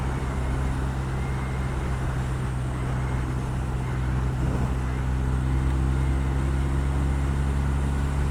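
A 2019 BMW R1250R motorcycle is ridden on the road, its engine and wind roar a loud, steady, unbroken drone throughout.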